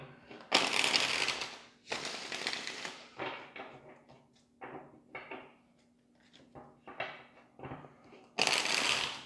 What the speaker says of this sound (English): Let's get three shuffles.